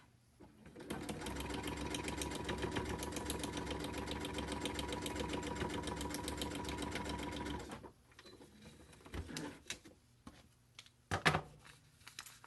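A sewing machine stitches a paper-pieced heart quilt block in one steady, fast run of about seven seconds, then stops, followed by a few quiet handling clicks and taps.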